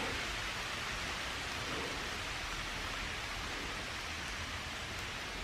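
Heavy rain pours steadily onto the leaves in Iroquois Park on a dark October morning, a dense, unbroken hiss with no pauses throughout.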